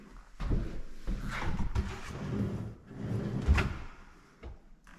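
New soft-close kitchen cabinet drawers and doors sliding and shutting, several soft thuds and rolling slides in a quiet room, one drawer dragging slightly, fairly faint.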